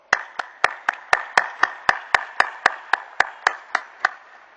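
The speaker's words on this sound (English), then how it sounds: "So please start by giving yourself a big round of applause." Clapping at a Nirma University convocation ceremony: about fifteen sharp, evenly spaced claps in a quick steady rhythm, fairly close, with no voices.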